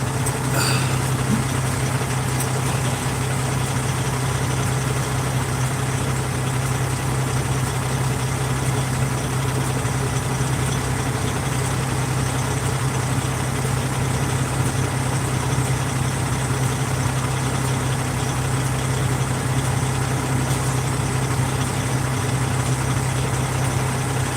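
A tractor engine idles steadily at close range, a loud continuous low drone with a constant pitch and an even rumble that holds unchanged throughout, with no voices over it.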